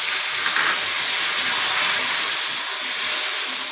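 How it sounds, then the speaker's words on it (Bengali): A little water poured onto chicken frying in onion oil sends up a loud, continuous steamy hiss and sizzle, close and unbroken throughout. "আমি অল্প একটু সামান্য পানিতে দিলাম।"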